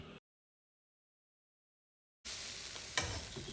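Appam batter poured into a hot vellayappam pan over low heat sizzles and crackles steadily, starting abruptly after a long silence and staying close and fairly loud.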